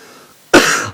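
A single sharp, loud cough bursts out after a half second of quiet room tone and trails off quickly.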